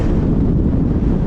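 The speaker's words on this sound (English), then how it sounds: "the wind is freaking rolling" Strong wind roars into the microphone at a reservoir duck hunt, a dense, continuous low buffeting with no break through the whole short moment.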